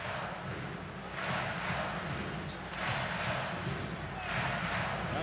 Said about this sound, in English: Now the crowd keeping its energy here inside Cameron Indoor Stadium